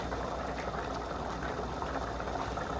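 Liquid boils steadily in a pot on the stove while Sunday dinner cooks, a dense, continuous bubbling hiss at close range with no talk over it.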